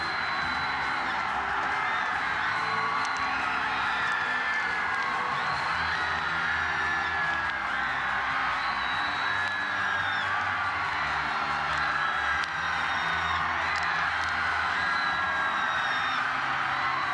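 Special forces soldiers shout in unison at a military anniversary ceremony, while a large outdoor crowd cheers and whoops, forming a loud, continuous roar with repeated swells throughout.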